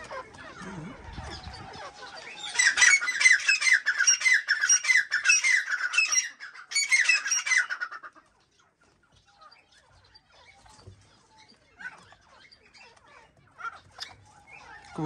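A grey francolin fighting a pigeon, giving a dense burst of loud, harsh squawking calls for several seconds close by, then dropping to faint scattered sounds, with a voice murmuring at the start.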